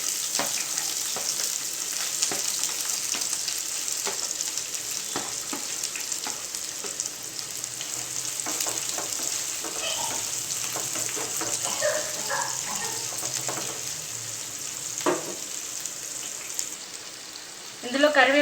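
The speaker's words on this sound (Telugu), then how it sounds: "ఉల్లిగడ్డ వేస్తున్నా" Chopped onion frying in hot oil in a pan, a loud, steady close sizzle running throughout with occasional stirring scrapes and crackles, a brief clatter at the end.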